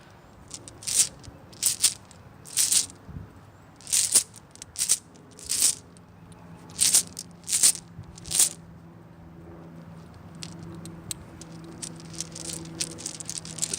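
Rune stones rattle and clack together during a rune draw, about ten crisp bursts of shaking in an irregular rhythm that give way to faint scattered clicks, close and fairly loud with no talking.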